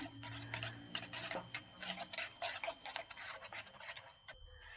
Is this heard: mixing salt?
yes